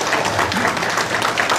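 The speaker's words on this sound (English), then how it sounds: "Can we give a round of applause to all of our Daesung?" Sustained, even applause from a community gathering on a Hmong Transition Day, recognizing members, dense clapping throughout, fairly close.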